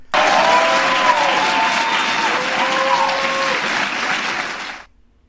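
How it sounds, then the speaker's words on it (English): Sustained applause from a political rally audience, loud and steady for nearly five seconds before cutting off abruptly, with faint tonal sounds mixed into the crowd noise. "And they clap for her."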